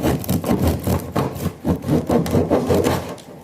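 A knife saws through a fresh sourdough loaf just out of the oven in rapid back-and-forth rasping strokes, close and fairly loud, with a crackling crust texture and no talking.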